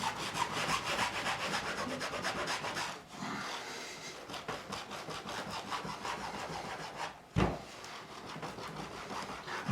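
Repeated rasping strokes rub across the frets of a Music Man Silhouette guitar during a refret, steady and close, with two brief pauses and a single soft knock near the end.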